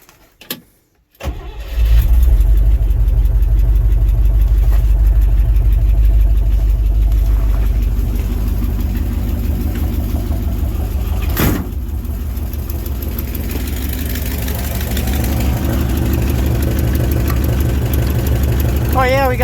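A 1967 International 1200 truck engine, jumped from a battery charger in an Alaskan winter, cranks briefly, fires and settles into a steady, loud idle that continues throughout.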